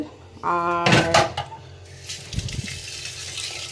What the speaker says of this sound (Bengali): ডাল ধুয়ে নিয়েছি